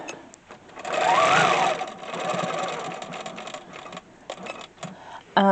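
A Unique 15R longarm quilting machine with a stitch regulator runs in rapid, steady stitching bursts at close range, with pauses and small mechanical clicks between runs and a sharp clack at the end.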